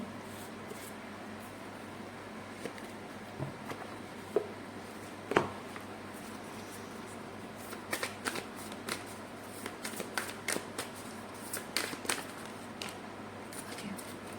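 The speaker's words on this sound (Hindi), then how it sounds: "ओरेकल कार्ड आपके लिए निकालते हैं।" Oracle cards being shuffled and drawn, with soft scattered riffles and flicks that cluster toward the end, quiet and close over a steady low background hum.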